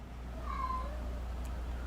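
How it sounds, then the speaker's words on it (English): A house cat meows once, a drawn-out, whiny call from a cat wanting to go outside, fairly close against a low steady hum in a quiet room. "My cat really wants to go outside."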